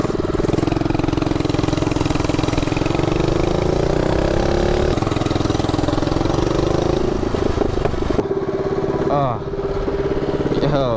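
A minibike engine running close by, a steady buzzing drone with rising and falling revs before it drops to a rougher idle, with voices talking over it.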